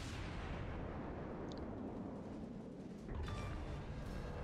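Warship naval guns firing in World of Warships, a dense, continuous low rumble of distant artillery with a heavier burst near the end, no talk.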